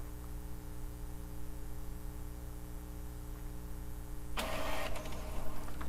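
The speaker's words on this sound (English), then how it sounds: "So it's almost coming out of my printer." A home printer outputting printed tags runs with a steady mechanical hum, then shifts partway through into a louder, rougher whir as the paper feeds through, with no talking.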